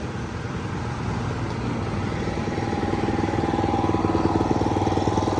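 A small Kubota T1-40S tractor engine runs steadily close by, a continuous mid-pitched chugging rumble that grows slightly louder toward the end, with no voices.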